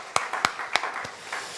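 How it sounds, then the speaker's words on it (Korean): Short, sparse clapping from a church congregation at a Sunday afternoon service, a few distinct hand claps standing out over quieter scattered claps, moderately faint and without talking. "우리가 박수하겠습니다."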